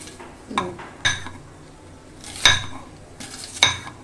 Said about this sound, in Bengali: এখানে আমি কিছু পেঁয়াজ কুচি করে নিচ্ছি